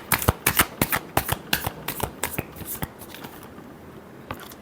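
Tarot cards are shuffled close up with quick crisp riffling slaps in a rapid irregular rhythm, loud and dry at first, then softening into a lighter rustle toward the end.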